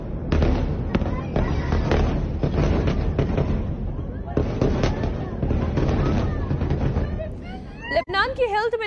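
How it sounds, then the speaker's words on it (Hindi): Explosions from Israeli airstrikes in Lebanon: a continuous barrage of heavy blasts and rumbling booms, loud and dense for several seconds, with a voice talking near the end. "तस्वीरें देखकर और धमाकों की आवाज सुनकर ही आप ये अंदाजा लगा सकते हैं ये इजरायल के हवाई हमलों से"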